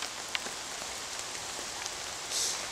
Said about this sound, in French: Il pleut, c'est la misère.